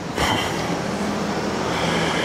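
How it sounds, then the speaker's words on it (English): A Swiss train near Lucerne on a day trip toward the Aare Gorge, a broad rumbling roar that swells briefly and then holds steady, close by and without talk. "this is the train we came on"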